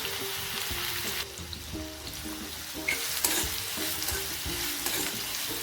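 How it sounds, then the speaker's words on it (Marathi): Half a spoon of mustard seeds and crushed garlic sizzle in hot oil for a white bitter gourd dish, a steady close hiss with scattered pops and a few stirring clinks. "आपलं तेल गरम झालंय आपण त्यात अर्धा चमचा मोहरी घालणार आहे"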